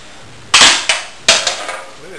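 A homemade coil gun fires at a can, two sharp loud snapping cracks about three-quarters of a second apart, each followed by a few quick rattling echoes or impacts, close by in a quiet room.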